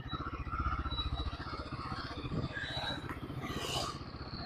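Royal Enfield Guerrilla 450 ridden on the road, its single-cylinder engine thumping steadily and close, with wind noise and a rise in revs toward the end.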